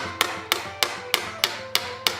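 A hammer taps brass sheet held over a stake for repoussé forming, seven crisp evenly spaced metallic strikes at a steady rhythm, close and alone.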